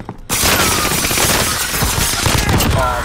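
Loud, sustained gunfire in a video game firefight bursts in abruptly after a brief pause, rapid shots overlapping into a dense close barrage.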